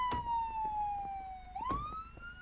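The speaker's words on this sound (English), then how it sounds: "And then cut the sirens on and lock it." Police car siren wailing in a long, slowly falling tone that sweeps back up, moderately loud and close, with faint road noise beneath and no talk.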